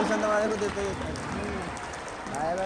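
An audience at a school annual day applauds a guest, a rushing wash of clapping that runs continuously beneath a speaker's voice.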